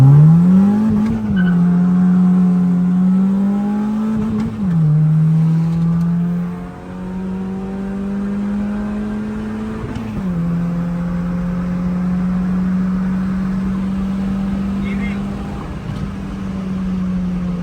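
Tuned Toyota Raize cars racing, one naturally aspirated and one turbo, their engines droning loudly and close as they accelerate hard through several gear changes, with rising revs dropping at each shift.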